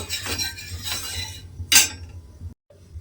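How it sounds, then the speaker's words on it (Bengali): A spoon scrapes and clinks against a tawa griddle while spreading mustard oil around it, a few close metallic strokes and one sharp clink, then quiet. "এবারে আমি চাটুর চারিদিকে তেলটা খুব ভালোভাবে লাগিয়ে নেব"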